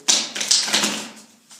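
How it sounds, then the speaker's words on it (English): A quick riffle of tarot cards being shuffled on a table, a short crisp burst of flicking and tapping up close, then fading out. "If I'm shuffling for another person, I might do this kind of shuffle"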